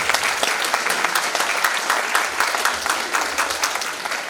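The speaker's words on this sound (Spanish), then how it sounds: "Con un fuerte aplauso, recibamos a nuestra ponente." A conference audience applauds steadily to welcome a speaker to a talk on mental and psychosocial disability, with dense, even clapping throughout and no voices over it.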